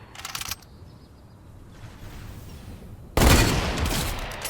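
Gunfire in a shooter video game: a short burst of rapid shots at the start, then quiet, then a loud sustained volley of close-range fire.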